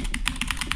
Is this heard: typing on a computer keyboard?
yes